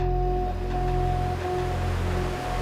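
A river waterfall heard from the bank during a portage, a loud, steady roar of rushing water filling the whole stretch with no break.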